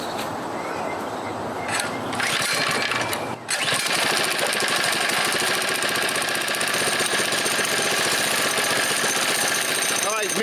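A Predator small gas engine on an old go-kart starts after a brief rough cranking and settles into a loud, steady, rapid close-up chatter that runs throughout.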